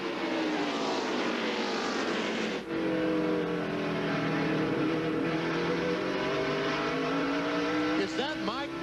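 NASCAR stock cars racing at the 2001 Old Dominion 500 roar past with sustained engine drone and shifting pitch, loud and continuous, under a commentator's voice.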